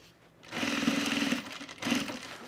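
A sewing machine top stitching down a bag handle, running in two close, loud bursts of rapid needle clatter separated by a short pause.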